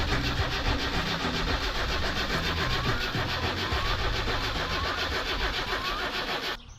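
Video-game car engine cranking repeatedly but refusing to start: a continuous, rhythmic, churning turnover for several seconds that cuts off abruptly at the end.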